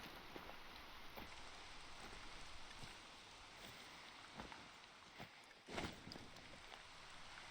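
Steady rain patters across the landscape in the hunting game TheHunter: Call of the Wild, a dense, even hiss with a few louder drops and brief rustles near the end.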